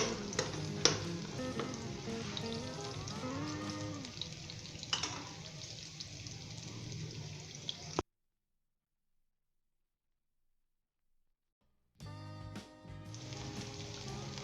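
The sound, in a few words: spices frying in pan for aloo matar bhujia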